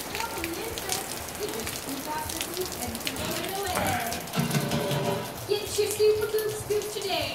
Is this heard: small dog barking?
no